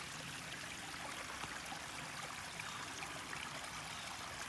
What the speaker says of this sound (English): I can just see the water flowing way up there in the distance.